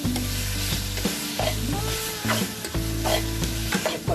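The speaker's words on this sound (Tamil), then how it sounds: "அந்த மிளகாத்தூள் கரம் மசாலா தூள் எல்லா வாசனையும் போகிற அளவுக்கு வதக்கிக்கோங்க." Chili powder and garam masala are sautéed in a pan for pav bhaji, a loud close sizzle with a continuous low rumble, punctuated by repeated stirring scrapes and clanks of a spatula.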